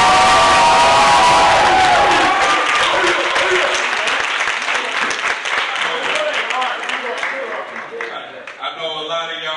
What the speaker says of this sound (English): So please give it a round of applause for Jahari